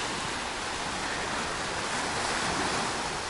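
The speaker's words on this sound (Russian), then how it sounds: "Море." Sea surf breaking on a beach in Alanya, Turkey, in April: a steady, loud wash of broadband wave noise with some wind rumble, continuous throughout and with no voices.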